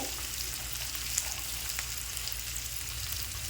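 Onions and raw chickpeas frying in a pan for a home-cooked meal, giving a steady, soft sizzle with fine crackling throughout and no voices.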